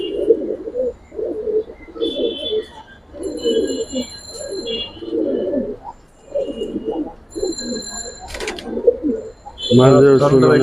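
Giribaz pigeons in a loft in Old Dhaka coo in repeated low, throaty bursts, close and fairly loud, mixed with a few higher chirps, while people talk nearby.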